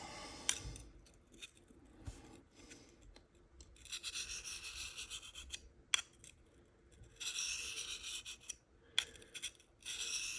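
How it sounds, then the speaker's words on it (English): An S90V steel knife blade is field sharpened on a Sharpal sharpener, producing faint, intermittent scraping strokes in short bursts separated by quiet gaps, with no speech. "I did a field sharpening on a S90V blade."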